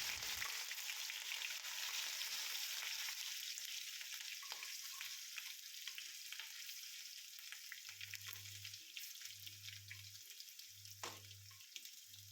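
Crushed ginger, garlic and green chilli frying in coconut oil for a Kerala-style crab roast, giving a steady close sizzle with occasional stirring clicks and no talk.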